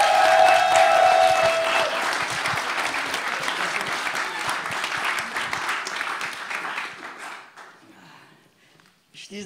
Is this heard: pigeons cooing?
no